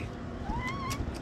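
A cat meows nearby, a single drawn-out rising and falling meow over a low background hum, fairly faint and brief.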